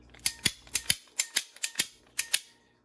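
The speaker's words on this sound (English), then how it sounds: "Here's just a quick demonstration how to use the pipe cutter." Hand pipe cutter ratcheting down around plastic pipe for a reef tank manifold, giving about eleven sharp, close clicks in a fairly steady rhythm, alone without any talk.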